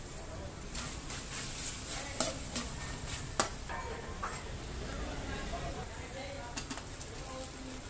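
Adobong sitaw with brown sugar being stirred in a pan: soft scraping and clinking of a utensil with a faint sizzle underneath, fairly quiet and close, while someone speaks.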